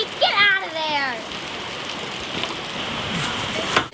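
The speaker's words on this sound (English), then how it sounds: "It's a rainy day" Steady rain falls on a homestead with sheep nearby, a constant wash of drizzle under a few brief bleating calls at the start, with a sharp clatter near the end.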